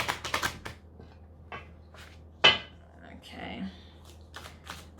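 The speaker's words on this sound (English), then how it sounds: "Do one more shuffle." Tarot cards are shuffled in quick riffling bursts at close range, with a sharp snap midway and softer card handling between, under a single brief spoken word.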